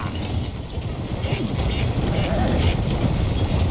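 Horse hooves clip-clop at a steady riding pace in Red Dead Redemption 2, moderately loud amid continuous game ambience and movement noise.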